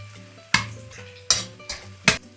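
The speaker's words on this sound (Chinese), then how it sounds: "简单翻炒2下" A spatula scrapes through garlic and dried chillies frying in oil in a wok, with about four sharp stirring strokes over a low sizzle.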